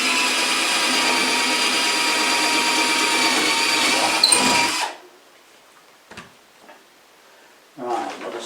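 A power drill bores a hole in a wooden tractor box, whining steadily and loudly for about five seconds before stopping, followed by a few faint handling knocks.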